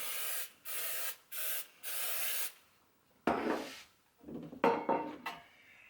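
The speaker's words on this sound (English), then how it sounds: "we'll start by spraying the pan with no-stick spray." Four short hissing bursts of non-stick aerosol spray coating a pan, followed by soft scraping and clattering of the pan, fairly close and quiet.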